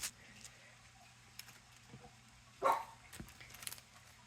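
A dog gives a single faint, distant-sounding bark in a quiet indoor room, set against a low background hum and a few light ticks, with no talking.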